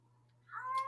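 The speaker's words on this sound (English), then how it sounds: "No, there's the cat." A single short cat meow rising at the end, near and clear over a faint steady hum.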